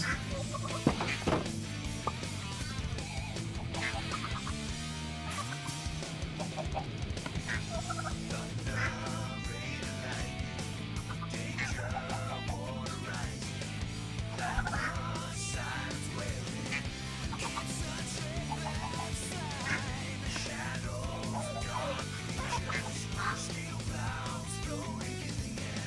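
Ducks and other farm fowl in Minecraft quack and gobble in repeated short calls, low in level under continuous game music with no talking.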